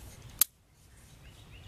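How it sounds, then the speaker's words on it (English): A single sharp snip of hand pruning snips cutting through a thin stick outdoors in a Georgia yard, one crisp click standing alone against quiet background. "I'm cutting these sticks"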